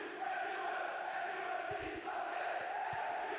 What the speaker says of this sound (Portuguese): Eu deixei só o som da torcida e tirei a narração.